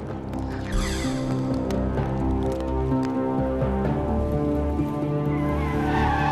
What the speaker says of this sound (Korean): 비 내리는 밤